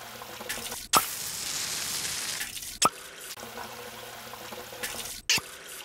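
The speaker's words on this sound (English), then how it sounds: "Water!" Water in the Roach Master cockroach mobile game runs as a soft continuous trickle like a filling tap, broken by a few sharp clicks and short pauses.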